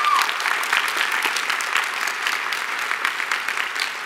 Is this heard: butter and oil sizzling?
no